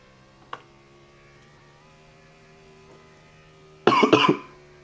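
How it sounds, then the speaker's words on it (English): A short throat-clearing cough near the start is followed later by a louder burst of several harsh coughs, close up over a quiet hum of background noise. "I'm a little sick, so y'all gonna have to excuse my coughing"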